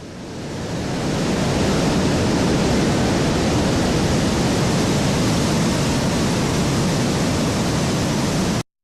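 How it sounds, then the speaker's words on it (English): A dense, roaring rush of falling water from Niagara Falls recordings, shaped into the tail of a tsunami wave, swells in over the first second, holds as a loud, steady broadband wash, then cuts off abruptly. "I used this last Niagara Falls track almost as it is originally to create the tail of the wave"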